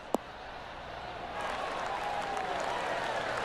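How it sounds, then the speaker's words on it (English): Spectators at a golf tournament, the Phoenix Open, break into a light, steady patter of applause after an approach shot, heard at a distance and holding evenly to the end; a single sharp click comes just before. "That deserves a golf clap."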